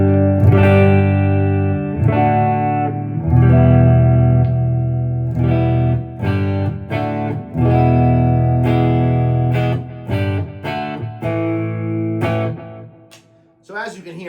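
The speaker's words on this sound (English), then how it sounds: "The low input is extremely clean." Electric guitar played through the low input of a very clean, low-gain Friedman Naked amp with no breakup, chords and picked notes ringing clearly, loud and close, with brief pauses between phrases.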